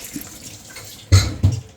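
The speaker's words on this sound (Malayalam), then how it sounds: "ആദ്യത്തെ പാല് ഞാനകത്ത് ഒഴിക്കുക" First coconut milk poured into a homestyle Kerala duck roast makes two short liquid splashes close by, with a faint wet background between them.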